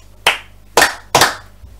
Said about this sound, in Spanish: en este caso solo damos dos palmas